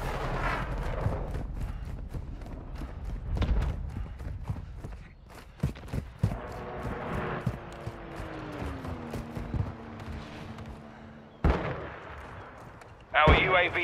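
Shots and heavy booming explosions in a Call of Duty: Modern Warfare 2 Ground War battle, repeated blasts and crackling gunfire spread through the scene, with radio-style voice lines and a rising whine later on.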